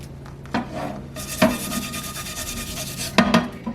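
A pan being scrubbed with a Scotch green scouring pad, close and abrasive, with steady rasping strokes broken by a few sharper scraping bursts.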